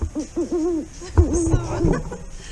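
Several wavering owl hoots sound in a short series, fairly close, with soft rustling noise in between, in Saxon Switzerland, Germany.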